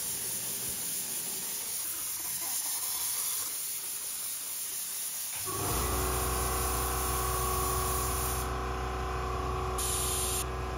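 A spray gun applies a thick coat of high build 2-pack primer to a car, starting as a soft background hiss and then switching to a loud, steady broadband spray rush that carries on continuously.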